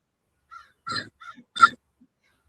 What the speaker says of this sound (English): Mr. Crow's got a lot to say.